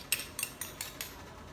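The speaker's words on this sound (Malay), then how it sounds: "Lepas tu kita gaul semua." Sago, grated coconut and corn flour being mixed in a bowl with a spoon, five evenly spaced light clinks of utensil on bowl over soft background noise.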